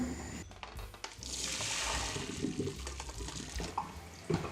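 Cooked spaghetti water pours out in a steady rushing stream into a sink, with a few clanks and splashes around it.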